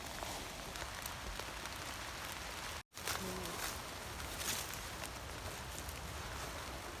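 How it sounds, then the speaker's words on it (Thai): Steady rain falls outdoors while mushrooms are being picked, a soft, continuous patter on leaves and ground with a brief dropout partway through. "ฝนตกค่ะ"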